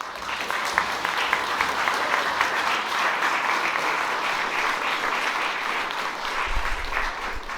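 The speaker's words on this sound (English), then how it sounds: "it definitely deserves a massive," At a data science and web development demo day in Brussels, the crowd breaks into a loud, sustained round of applause that stays dense and even from start to finish.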